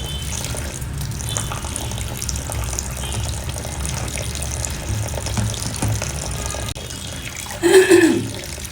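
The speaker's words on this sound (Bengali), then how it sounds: "আর এই যে পাট শাকটাকে এখন ধুয়ে নিব আমি" Jute leaves being washed under running water, a continuous close stream from a tap with a louder splash near the end as the leaves are handled.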